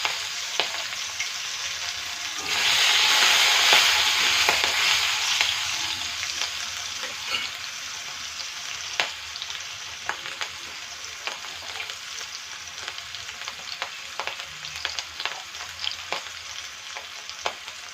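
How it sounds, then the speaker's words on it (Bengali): Potatoes frying in hot oil in a pan after fish has been fried, a close, steady crackling sizzle that swells loudly early on, then settles with scattered pops and stirring clinks. "আলুগুলো একটু ভেজে নিচ্ছি।"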